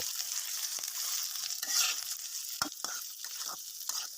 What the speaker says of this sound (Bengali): এর ভিতরে সিদ্ধ করা আলু দিয়ে দিলাম এবার তিন মিনিটের মতো করে কষিয়ে নেব